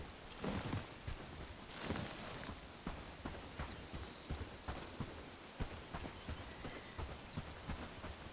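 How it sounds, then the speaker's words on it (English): Rain in the medieval survival game Bellwright, a faint steady patter with scattered droplet ticks and a couple of louder rumbling gusts near the start. "Like, when does the bloody rain stop?"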